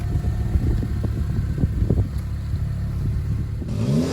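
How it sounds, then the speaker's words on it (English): A Zenos E10S sports car engine roars nearby and fades as the car pulls away, with steady wind noise buffeting the microphone. "they've just gone off in the Zenos E10s. Still hear them now."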